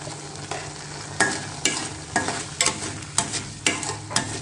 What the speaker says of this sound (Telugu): ఒకసారి మొత్తం మిక్స్ చేసేసుకోవాలి.